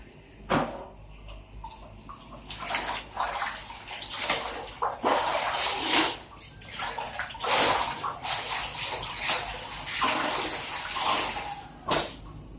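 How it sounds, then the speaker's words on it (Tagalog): Laundry being rinsed by hand in a basin of water for the third time, with close, irregular splashing and sloshing in uneven bursts, a few sharp knocks, and no talking. "Last na banlaw. Pangatlo. Pangatlong banlaw."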